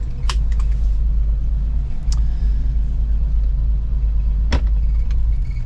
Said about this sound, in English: we're gonna go for a little drive just down the neighborhood